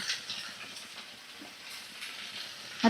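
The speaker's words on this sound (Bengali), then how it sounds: "সব সবজি আমি একসাথে তেলের মধ্যে দিয়ে দিলাম" Malabar spinach seeds, chopped carrot and cauliflower sizzle together in hot oil, a steady soft hiss with faint crackles and no talking.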